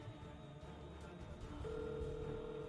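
A phone call's ringing tone plays while waiting for an answer, steady and faint with a sustained tone under a low background hum.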